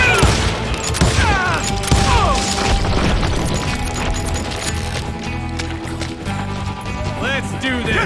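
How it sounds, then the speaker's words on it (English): Gunfire echoes down a town street in the Old West shooter Call of Juarez: Gunslinger, dense booming shots and crashes blending with shouting voices and a busy, loud battle din throughout. "They're shooting in the street!"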